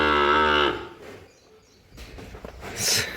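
A tethered buffalo on a farm gives one loud, close moo, then falls quiet among faint rustling before a brief higher sound at the end.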